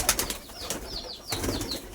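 Pigeons in a pigeon house give soft wing flaps and rustles with a few short, faint calls, close by and without voices.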